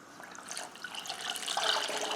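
Water runs steadily into a saucepan holding two cups of sugar on a lit stovetop, a soft continuous pouring trickle that grows slightly louder toward the end, with no talking.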